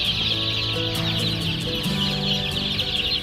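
Chickens clucking on a hillside chicken farm in Heilongjiang, China, a dense continuous chorus of many birds close by with steady clucks and calls throughout.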